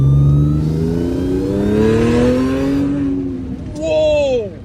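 An Audi S5 engine revs hard, its rising and falling pitch sweeping upward in strong harmonic bursts, loud and close, with a voice exclaiming over it toward the end.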